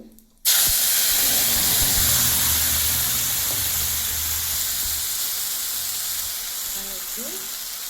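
Bay leaf and cumin seeds hit hot oil with a sudden loud sizzle that keeps hissing and slowly fades, with a voice faintly talking in the background.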